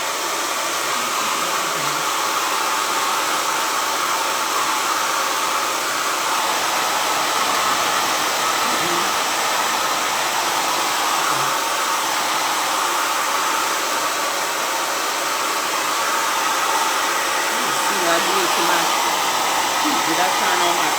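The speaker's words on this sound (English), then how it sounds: "This is nice to use at the end when you get finished using your cool burst setting on your dryer" A hair dryer on the cool burst setting blows steadily on curly hair, a loud, continuous whooshing roar that lasts the whole time without a break.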